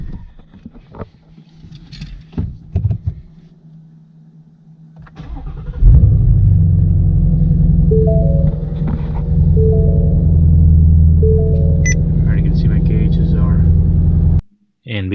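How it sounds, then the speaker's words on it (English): A Ford Mustang GT350 fresh from an oil change cranks and fires up, then settles into a loud, steady rumbling idle, after a stretch of quiet handling noises and a brief clunk near the end. "So now we're going to go ahead and turn on the car."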